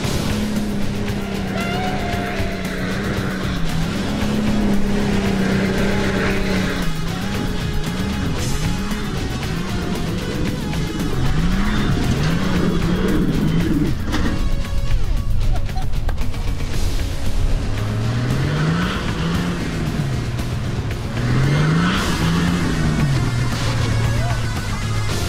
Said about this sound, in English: when you put that throttle down, this thing absolutely soots